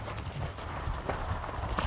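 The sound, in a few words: Tennessee Walking Horse hooves gaiting with keg shoes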